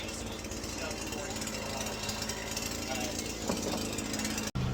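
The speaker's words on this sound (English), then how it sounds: "the guys came to mow, and they decided they wanted to weed eat right here first" A string trimmer weed eating nearby runs as a steady, close buzzing drone throughout, under someone talking, cutting off abruptly near the end.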